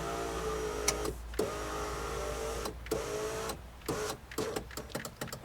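Electric motor of a power window regulator in a 2003 BMW 525i whirring as the glass rises, a close, steady hum broken by several short pauses and restarts, ending in brief stuttering clicks.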